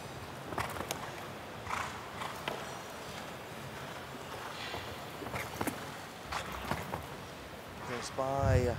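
Show jumping horse at a Hong Kong Masters competition: faint, scattered hoof thuds and clops beneath continuous arena commentary and crowd murmur, ending with a short louder burst.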